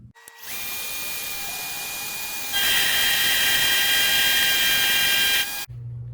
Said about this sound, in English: Next I'm going to try some real shallow facing cuts on the side.